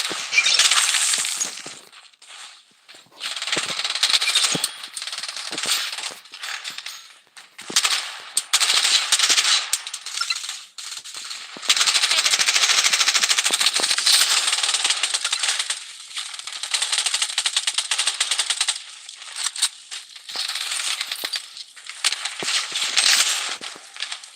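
Video game gunfire in Payday: dense, continuous bursts of automatic weapons rattle almost without pause for over twenty seconds, loud and close, with short gaps between volleys.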